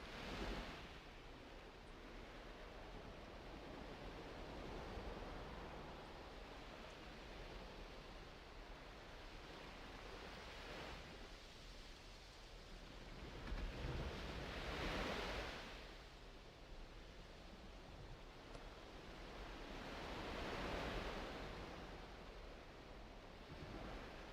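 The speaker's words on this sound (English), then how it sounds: "Sounds of the ocean are relaxing though" Ocean waves in a video game roll on as a continuous, fairly soft surf wash, swelling louder twice as bigger waves break, alone without any talk.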